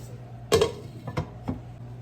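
Metal lid set onto a pot of jambalaya turned down to low heat, one clear clank followed by two lighter taps as it settles, fairly quiet in a kitchen.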